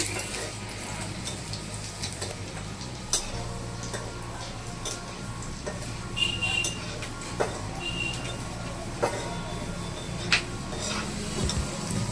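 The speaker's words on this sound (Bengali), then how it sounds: "এই দেখো রসুন কুচিটা দিয়ে এবার নাড়ছি" Chopped garlic sizzles steadily in a hot pan as a spatula stirs it, with soft scraping and occasional louder taps against the pan over a continuous frying hiss.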